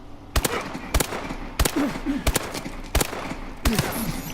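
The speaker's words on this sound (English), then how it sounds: "the normal MP11 at its longest range is a 6-shot kill" An MP11 submachine gun fired in Call of Duty Advanced Warfare, six sharp separate shots at a steady spacing of about half a second, loud and close, with faint talk between them.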